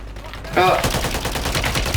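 Gunfire in the game Warzone bursts out after a brief quiet moment, continuing as rapid, dense automatic shots at fairly close range, with a voice calling out briefly over it.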